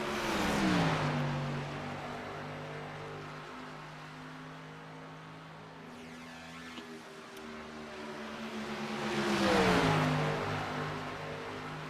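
A Gen 4 race car engine at Indianapolis roars loudly near the start, then holds a steady high-pitched drone. A second loud surge builds around the ten-second mark as the car pushes hard toward the limit.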